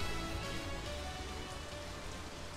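Rain falls steadily in the video game Bayonetta 2, a dense, even patter of drops on a surface, soft and constant throughout with no voices.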